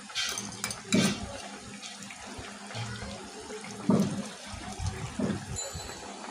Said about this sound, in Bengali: এবার মাছগুলাকে একটু জলের মধ্যে ডুবাই দিব